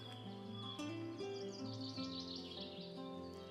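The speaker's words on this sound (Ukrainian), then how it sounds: "Пташки співають, чуєте як?" Birds chirp and sing over a busy background; high, bright calls flutter throughout, mixed with steady lower tonal sounds.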